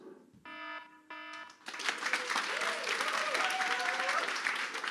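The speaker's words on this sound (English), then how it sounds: "right when you hear the alarm, you start clapping, applauding, right?" A shrill electronic alarm beeps in two short bursts during a lightning talk at a Zurich front-end conference, then the audience breaks into loud, sustained applause with some cheering that fills the rest of the clip.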